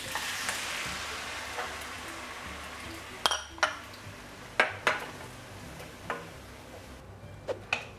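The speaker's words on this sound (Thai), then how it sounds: "ผัดให้ตัว เส้นมักกะโรนีมันดูดนมเข้าไปนิดหนึ่งนะครับ" Macaroni with bacon and milk stir-fries in a pan, a soft continuous sizzle punctuated by several sharp clinks and knocks of a utensil against the pan, close but fairly quiet.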